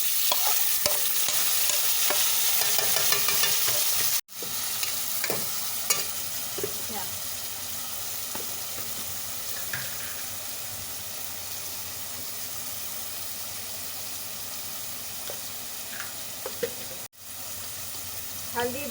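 Ginger paste, green chilies and tomatoes frying and being stirred in a pan, a continuous close sizzle with scraping stir sounds, briefly cut off twice.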